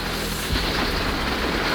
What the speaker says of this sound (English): big gusts of wind